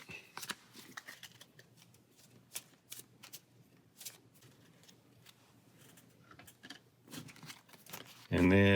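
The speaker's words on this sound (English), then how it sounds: "So we'll shuffle that up." Deck of game cards from the Pathfinder Adventure Card Game shuffled by hand at a table, a run of quick riffling, flicking bursts across several seconds, close and moderately loud, with faint background talk.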